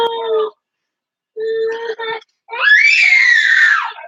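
A 3-year-old child screams in several bursts, with two shorter cries and pauses, then one long, loud, high-pitched wail to finish.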